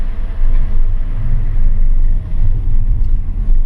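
A Tesla Model S electric car pulling away: low, steady rolling rumble with soft motor whine, heard from inside the cabin, fairly loud and continuous with no talk.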